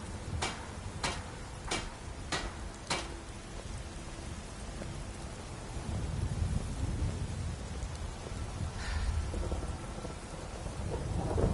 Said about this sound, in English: Dragon fight during a lightning storm.